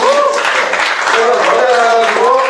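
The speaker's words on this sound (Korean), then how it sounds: "박수가 이렇게 나오고" Audience applause at a village community-building network forum, a steady wash of clapping that fills the whole moment, with crowd voices mixed underneath.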